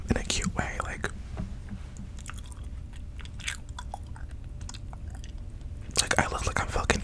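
Close, soft gum chewing with wet clicky mouth sounds, bursts of crunchy clicks at the start and end and sparser clicks between, with quiet whispering throughout.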